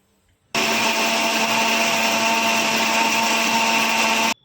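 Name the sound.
mixer grinder grinding whole spices for mutton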